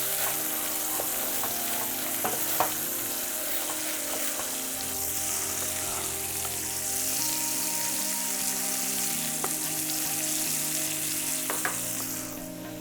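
Onions fry on a hot griddle beside wagyu burger patties, giving off a continuous close sizzle dotted with occasional sharp crackles and pops.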